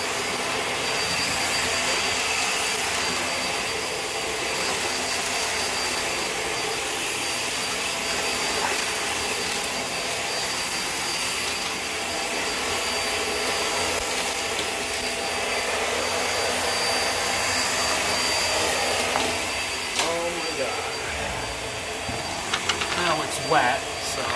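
A Hoover React Powered Reach cordless vacuum cleaner runs continuously, a steady high-pitched motor whine with airflow roar, briefly shifting and clattering near the end as it moves over the floor.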